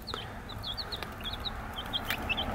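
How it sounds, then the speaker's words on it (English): Chickens cluck softly while feeding on corn crumbs and yolk from a small cup, with short repeated calls scattered over a low, steady background. "Here's the video about the chickies feasting."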